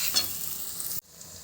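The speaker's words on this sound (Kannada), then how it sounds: "ಲಾಸ್ಟಿಗೆ ಒಂದು ಕಿನ್ನೆ ಸ್ಪೂನ್ ಶುಂಠಿ ಬೆಳ್ಳುಳ್ಳಿ ಪೇಸ್ಟ್ ಪಾಡ್ದು ಅವೆಲ್ಲ ಸಮ ಇಂಚ ಕಾಯಿನ ಮುಟ್ಟ ಎಣ್ಣೆ ಬುಡ್ನ ಮುಟ್ಟ ಫ್ರೈ ಮಾಡ್ಬೋದು" Ginger garlic paste fries in hot oil with a close, bright sizzle and stirring scrapes for egg ghee roast, cut off abruptly and followed by a quieter, softer sizzle.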